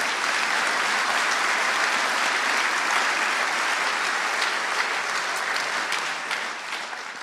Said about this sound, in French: Je pense qu'on peut les applaudir parce que vraiment.